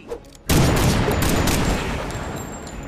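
A sudden loud burst of gunfire from a Quick Shot attack in Marvel's Midnight Suns erupts after a brief quiet moment, then sustains as a dense, rattling barrage that slowly tapers over a few seconds.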